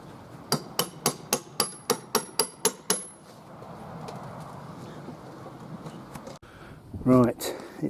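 Sledgehammer knocking apart a wooden roof with OSB board during a garden build, about nine sharp evenly spaced strikes ringing close up, then quiet outdoor ambience with a pigeon cooing and a voice briefly heard.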